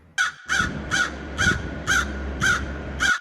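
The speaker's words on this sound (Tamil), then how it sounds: "இது வேற கான்னு நச்சு பண்ணிட்டு இருக்குது. ஏய் காக்கா, ஷோ கம்முனு இரு." A crow caws in a Tamil cartoon, giving seven loud, harsh calls in a steady, evenly spaced rhythm, close and clear over a low background hum.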